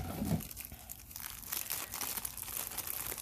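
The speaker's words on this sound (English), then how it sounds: "Unwrap. Save the plastic." Plastic packaging around small painted fairy-garden toy figures is unwrapped, giving close, continuous crinkling and crackling with a few tearing rustles and no talking.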